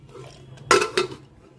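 Two quick, bright clinks of dishes and a utensil close by as boiled masoor dal, papaya and pointed gourd are served into a bowl, over faint background hum.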